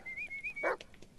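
A dog in the Blair Witch video game gives a single short bark after a thin whining whimper, close and moderately loud, with no speech over it.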